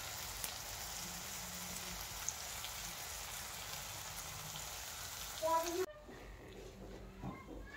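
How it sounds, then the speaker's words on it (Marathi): Tomatoes added to a hot pan for a Marathi-style shev tomato curry give a steady, soft frying sizzle like light rain for about six seconds. Afterward a few faint clinks and pan sounds follow. "तर आता इथं ऍड करतायत टमाटे."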